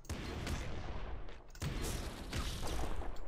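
Bazooka fire in the Nuclear Throne video game: dense, continuous bursts of gunfire and explosive blasts packed together, loud and close, with a short dip in the middle before the barrage picks up again.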